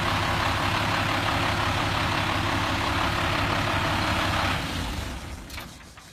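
An International DT466 inline-six diesel in a truck idles with a steady, loud, rough rumble and broad hiss, then the sound drops off and fades toward the end.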